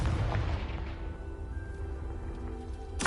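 A Confringo blasting curse explodes in Hogwarts Legacy on PS5: a deep, rumbling boom opens, then dies into a low murmur before a second sharp burst at the very end, all fairly quiet.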